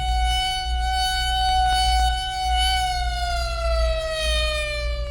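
A steady wailing noon siren at Lackland Air Force Base, Texas, in 1969, its tone holding high then slowly sliding lower, loud and continuous over a low rumble.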